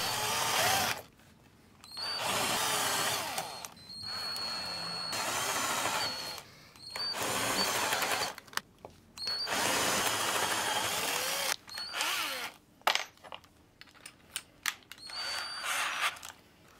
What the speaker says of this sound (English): And the holes for the audio jacks with a 6mm bit.